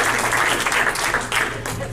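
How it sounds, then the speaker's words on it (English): A comedy show audience gives a big round of applause, loud dense clapping close by that holds steady throughout with a few louder bursts. "Give a big round of applause for Lisa McFadden, ladies and gentlemen."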